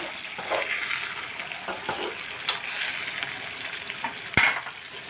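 Okra in a pan sizzles steadily while a spoon stirs it, with scattered scrapes and clinks against the metal and one sharp knock near the end, close and moderately loud with no talking.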